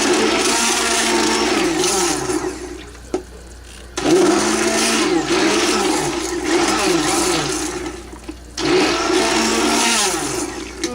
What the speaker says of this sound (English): I do that when I bring the blender up